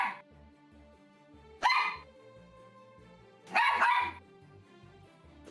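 An agitated dog barks in two loud, close bursts separated by a pause, over quiet background music.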